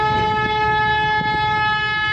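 During a driving lesson, a car horn sounds as one loud, steady, unbroken tone that lasts the whole two seconds.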